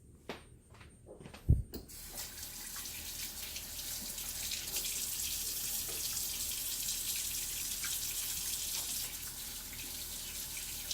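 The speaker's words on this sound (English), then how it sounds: "Let me wash my hands." A kitchen faucet runs for hand washing between steps of preparing fried ribs: a few handling clunks and a thud, then a steady, close gush of water streaming into the sink that continues to the end, with no talking.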